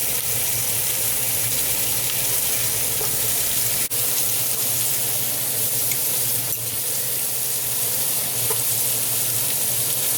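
Onions sizzle steadily in a pan for braised short ribs, a close, even frying hiss over a low hum with faint stirring clicks, uninterrupted and free of speech.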